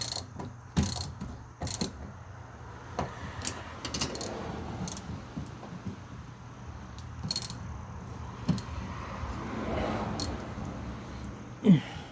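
A ratchet tightens the top bolts of rear BC Racing coilovers on a 1994 RX-7 FD3S, with scattered clicks and bursts of ratcheting spread through a quiet stretch, plus a few metallic clinks.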